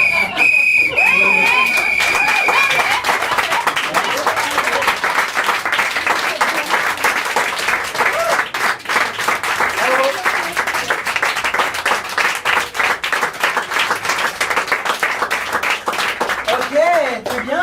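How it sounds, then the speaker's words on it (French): Audience applause fills an improv theatre bar show, dense sustained clapping from a crowd with a sharp whistle near the start and scattered shouts, steady and loud throughout. "c'était des applaudissements mérités"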